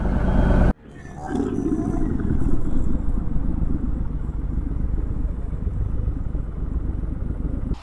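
After a sharp cutoff, a Harley-Davidson Softail Sport Glide engine fires up and settles into a loud, steady rumbling roar that continues throughout, running close by.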